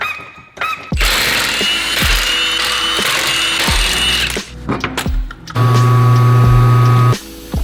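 An impact wrench zips lug nuts off the wheels of a 450-whp Honda race car being fitted with 23-inch M&H slicks, several loud whirring bursts with ratcheting clatter, followed by a long steady mechanical whine.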